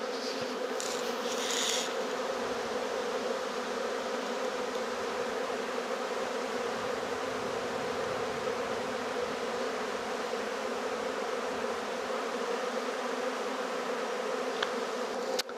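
Honeybees swarming thickly around a hive, a dense continuous buzzing hum from many insects, close and steady throughout with no talk.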